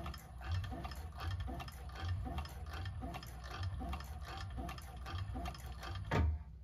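A cylinder-arm sewing machine sews a bag in short bursts of rhythmic ticking stitches, close and clear, with brief pauses and a louder thump near the end.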